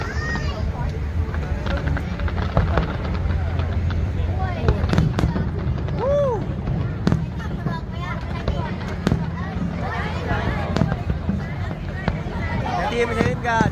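The American team performs at the Da Nang International Fireworks Festival. Repeated pops, bangs and crackles burst overhead while nearby spectators chatter and exclaim continuously throughout.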